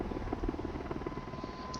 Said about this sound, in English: they make the sound of a helicopter flying over